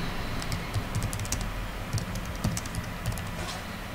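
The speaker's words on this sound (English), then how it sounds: "So you type basically just type the name of a new app" Someone types on a computer keyboard with quick, light, irregular clicks at close range. The keystrokes come in short bursts with no speech.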